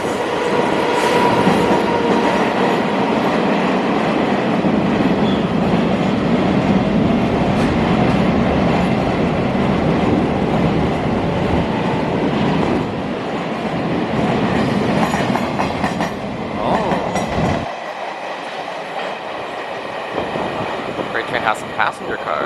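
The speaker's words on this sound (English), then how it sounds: "There is a freight train going by on the opposite side." A freight train rumbles past close by in Taiwan with a steady, loud roar and rhythmic wheel clatter, easing briefly near the end before the noise returns.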